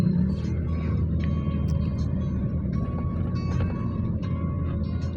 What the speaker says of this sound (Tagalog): Medyo na traffic lang kami ngayon.